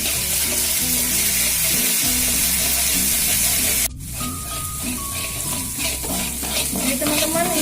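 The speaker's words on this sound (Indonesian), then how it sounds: "ini minyaknya udah saya panaskan. Ya, lalu kita tumis bumbunya. Kita tumis sampai ia harum." Spice paste sautés in hot oil, a loud close sizzling hiss with stirring; midway the sound briefly cuts, then resumes with crackling, a faint tone and continued frying.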